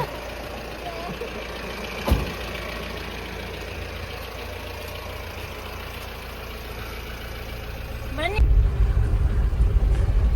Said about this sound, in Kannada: ಈಗ ನನ್ನ ಹೆಂಡತಿ ಡ್ರೈವ್ ಮಾಡ್ತಾಳೆ ಅಂತ ಹೇಳಿದ್ಲು so of road of road driving